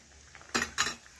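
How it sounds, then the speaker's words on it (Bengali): Fried fish tipped into a pan of boiling tomato curry gives two short, loud splashing bursts close by, about a quarter-second apart, each followed by a faint bubbling tail. "এখন আমি ভেজে রাখা মাছ ওপর থেকে ঢেলে দেব।"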